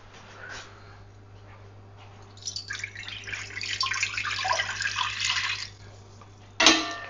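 Water from a two-cup measure is poured into a small pan for a batch of Armenian marinated red peppers, a steady splashing pour lasting a few seconds, close and moderately loud, with no talking.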